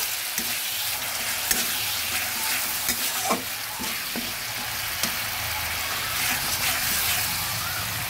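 Spice paste for a bottle gourd and fish-head ghonto, made without onion or garlic, fries with a splash of water in a pan: a steady hiss with scattered scraping stirs close up.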